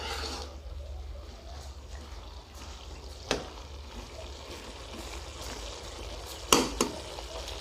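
Capsicum (bell pepper) cooking under a lid in a pan with carrots for chicken vegetable spaghetti, a steady low frying sizzle with a few sharp clinks of the lid or utensil.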